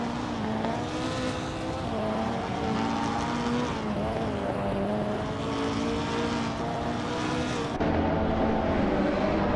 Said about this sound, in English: Lopdums is running a 2019 Brabham BT62, known for its lightweight build and high downforce.